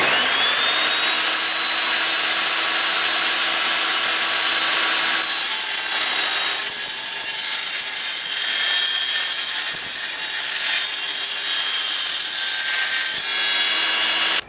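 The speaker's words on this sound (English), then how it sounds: "I'm just going to go for a straight cut just to demonstrate it cutting the Unistrut." An Evolution Rage 5-S table saw makes a straight cut through Unistrut metal channel, giving a loud, steady, bright whine with high-pitched ringing tones that holds continuously throughout, close up and with no talking.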